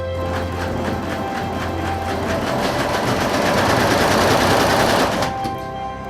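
A computerized embroidery machine runs with a fast, steady mechanical rattle of rapid needle strokes, loud and close, then stops abruptly about five seconds in, as it does automatically when its thread breaks.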